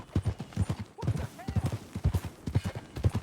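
Horse hooves gallop in a fast, steady clip-clop rhythm during a ride in the video game Red Dead Redemption 2, with voices talking over the hoofbeats.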